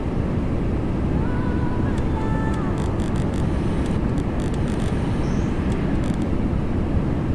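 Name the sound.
Boeing 737-800 landing in X-Plane 11 video game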